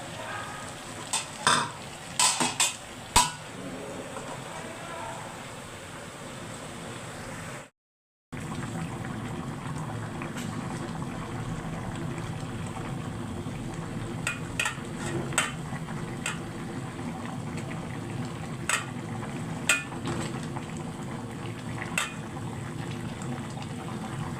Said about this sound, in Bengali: একটা লড্ডা শুটকি দিয়া তরকারি রান্না করতেছি